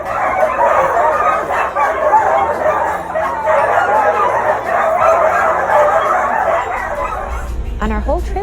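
Excited sled dogs in Alaska barking and yipping before a run, a loud, dense chorus of many dogs close by, continuous with whines mixed in.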